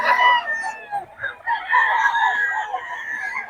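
Gamecock roosters crow loudly and repeatedly at close range in Bocaue, with overlapping long calls and a few clucks in between.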